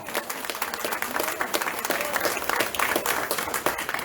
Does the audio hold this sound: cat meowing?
no